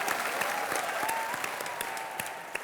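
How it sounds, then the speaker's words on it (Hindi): A studio audience on a Hindi entertainment comedy show breaks into steady, fairly faint applause with sharp individual claps standing out, and no clear talk. "एक बार जोरदार तालियां हो जाएं"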